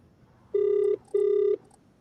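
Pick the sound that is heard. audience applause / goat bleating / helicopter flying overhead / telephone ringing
telephone ringing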